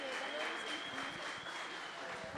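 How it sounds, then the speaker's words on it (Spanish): Crowd applause at a gathering with prize certificates and a raffle, moderately distant clapping mixed with a steady tone and murmuring voices underneath. "Bueno, un fuerte aplauso."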